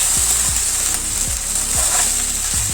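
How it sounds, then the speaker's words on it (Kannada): Ivy gourd pieces fry in a pan over medium flame, a steady bright sizzle close up with a few scraping stirs of a spatula, no voices. "ಈ ರೀತಿ ಚೆನ್ನಾಗಿ ಫ್ರೈ ಮಾಡ್ಕೋಬೇಕು"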